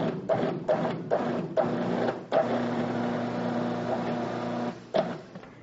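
A food processor pulses shortening into empanada dough, its motor whirring in several short bursts followed by one longer steady run, close and fairly loud without speech.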